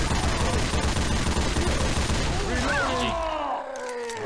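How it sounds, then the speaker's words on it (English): A heavy machine gun in the Left 4 Dead 2 video game fires a loud, rapid, continuous burst. Voices are heard over the gunfire, and it ends in shouting with a ringing tail. "Shoot with your heavy machine gun."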